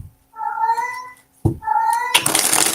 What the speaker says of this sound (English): That's my cat. He just wants to go outside.